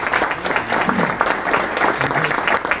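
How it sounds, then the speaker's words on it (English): An audience at a political event bursts into loud, sustained applause, a dense patter of clapping that lasts throughout. "Let's give them another round of applause."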